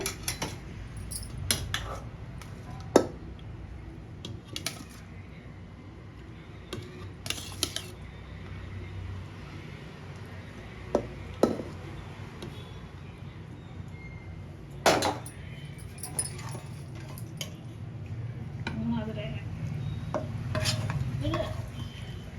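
Rice spooned into a pot in layers for homemade Hyderabad paneer biryani, sparse metallic clinks and taps of a utensil against the vessel, with soft scraping between them in a quiet kitchen.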